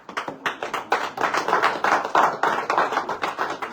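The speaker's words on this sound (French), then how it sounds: "Ça s'applaudit." An audience of party activists applauds in a burst of rhythmic clapping, loud and close, with individual claps standing out in a steady pulse that runs throughout.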